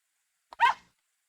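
A single short, clipped dog bark from the visual novel game Ever17, heard alone against silence.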